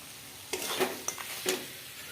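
Fish curry with tomato, salt and bori being stirred in a pan, with a few short scraping strokes and a soft sizzle, fairly faint and close, with no voices.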